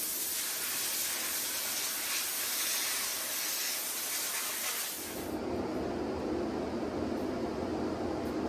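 Compressed air blasts dust off a steel-wheeled pinball machine after sanding, a loud, steady, close hiss that holds throughout and changes tone about halfway.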